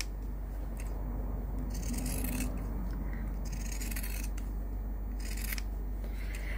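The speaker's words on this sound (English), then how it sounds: "we are just going to trim all the way around, making sure that we do not cut into the stitching that we've just done" Scissors trim around the stitching of a fusible fabric coaster, giving a few quiet, close snips and crisp rustling cuts spaced over a low steady background hum.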